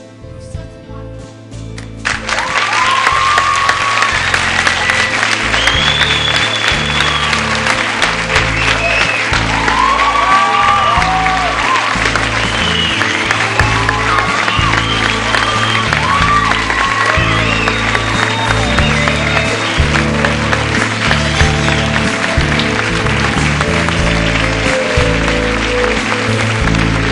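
Theatre audience giving sustained, loud applause after a school drama club performance, a dense wash of clapping with scattered cheers and voices that begins abruptly and holds steady for a long stretch.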